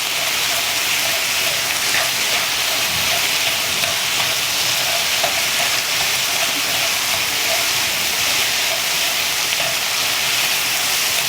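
Korean Hanwoo beef stir-frying in a hot pan for quesadilla filling, a steady loud hiss and sizzle of moisture cooking off, continuous with small pops and no pauses.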